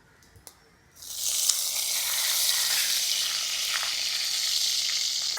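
Shallots and four green chillies hit hot oil and start sautéing at once, giving a loud, steady sizzle that carries on without a break.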